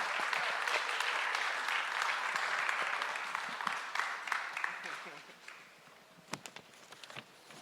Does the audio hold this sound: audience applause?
yes